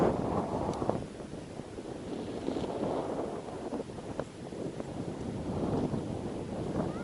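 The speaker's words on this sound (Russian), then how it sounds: "Такой вот у нас ветер" Steady, rough winter wind off the sea at Zelenogradsk buffets the microphone with a continuous low rumble, with no voices and no pauses.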